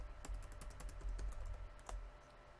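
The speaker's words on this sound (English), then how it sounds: "We're going to type in button" Clicky tapping on a computer keyboard, a quick burst of keystrokes followed by a couple of isolated presses, close but fairly soft over a low background hum, no talking.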